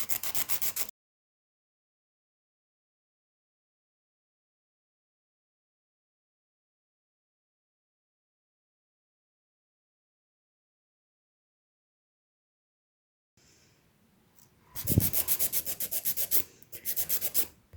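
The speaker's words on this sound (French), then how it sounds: "vous tenez fermement votre lime, vous essayez de stabiliser votre main" A nail file rubbing back and forth across gel nails to shorten them, a close, raspy scraping in quick strokes, heard briefly at the start and again near the end after a long silence.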